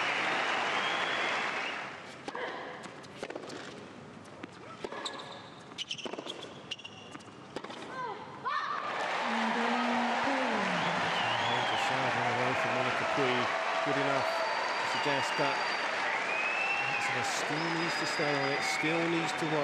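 A tennis crowd at the 2016 Sydney International WTA final bursts into sustained, loud applause that continues steadily to the end, with a commentator talking over it.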